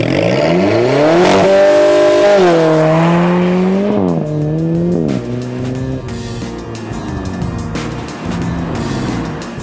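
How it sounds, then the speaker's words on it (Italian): An Alfa Romeo 4C driven hard on the Balocco test track, its engine roaring loud and close with rising and falling pitch through gear changes, joined by squealing tires in the corners. "Una cosa che rende ancora lo spirito più da gara di questa macchina è il rombo del motore."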